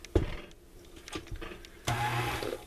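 An electric mixer blending box cake batter with half a stick of butter, switched on in short bursts with a loud whirring run near the end.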